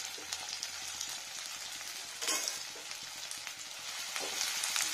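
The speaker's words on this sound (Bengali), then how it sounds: "তো প্রথম পেঁয়াজ কুচানোটা দেবো।" Chopped onion fries in a pan with a steady, crackling sizzle that has small pops and a few brief swells of louder spitting, fairly quiet and close, with no voices.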